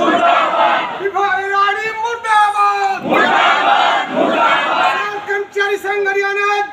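Protesting forest workers at a sit-in chant slogans loudly together in rhythmic, shouted bursts, with the crowd's voices rising and falling close by.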